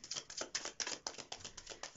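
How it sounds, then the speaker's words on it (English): A tarot card deck being shuffled by hand, a run of crisp riffling snaps and slaps repeating in quick irregular bursts, close and fairly quiet with no talking. "Let's shuffle your deck today."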